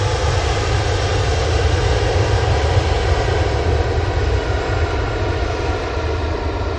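Airbus A330-200 airliner arriving at Manchester Airport, a loud, steady broadband engine roar with heavy low rumble, constant throughout and close by, with no voices.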